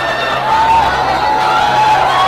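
A crowd cheers at a boxing match, a steady loud roar of many voices with whoops and whistles rising over it, and a commentator's voice carrying through the noise.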